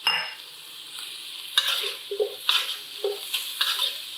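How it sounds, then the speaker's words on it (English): Onions and carrots stir-frying in a pan, a soft steady sizzle broken by repeated scraping and tossing strokes of a utensil against the pan at a loose, uneven rhythm, close up and with no talking. "Now I'm going to throw in some onions."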